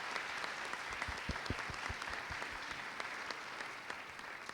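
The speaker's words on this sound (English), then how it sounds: "Can we give our students another round of applause?" High school audience applauding students after a performance, dense steady clapping from a large crowd, even and sustained throughout with no talk over it.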